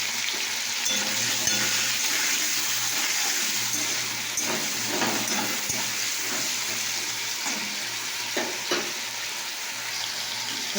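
Pointed gourd (potol) frying in oil in a pan, a steady, dense sizzle lasting throughout with occasional clinks and stirring scrapes underneath.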